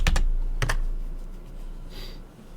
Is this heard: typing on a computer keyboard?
yes